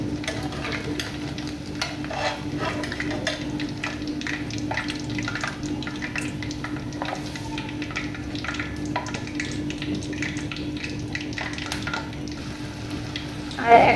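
Potato pakoras fry in hot oil with a soft, continuous bubbling sizzle, close and steady, scattered with small crackles and faint scraping of a utensil, ending in a brief louder clatter.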